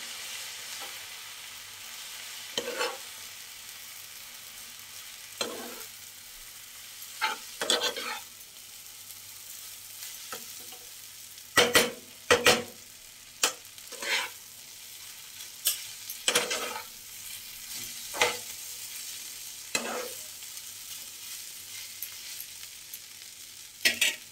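Egg chowmein with vinegar and soy sauce is stirred in a hot pan: a soft background sizzle broken by repeated sharp scrapes and clatters of the spatula at an irregular pace.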